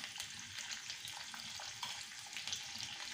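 Green chilies frying in tempering oil for dhokla, a steady dense sizzle and crackle at close range with occasional sharper pops, continuous throughout with no voices.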